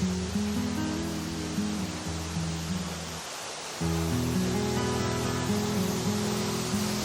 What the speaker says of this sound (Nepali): यति ठुलो झरना छ